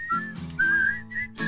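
A person whistles a short, wavering melody up close, a few sustained tones with breaks between, over a low background hum in a casual setting at a brewery.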